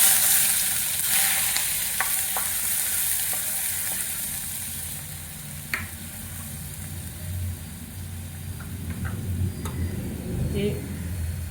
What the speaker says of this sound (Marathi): आपण आता कांदा घालू.